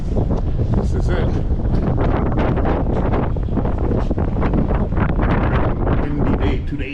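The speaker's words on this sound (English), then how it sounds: "Windy day today, and we are now on the ferry." Strong wind buffets the microphone in a continuous roar on the deck of the Black Ball ferry from Port Angeles to Victoria, with rumbling boat noise underneath and no pauses.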